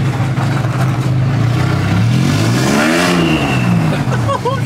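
A turbocharged Ford F150 drift truck engine revs loud and close, rising and falling in a sustained roar with a sweeping pitch swell in the middle, people's voices faint underneath.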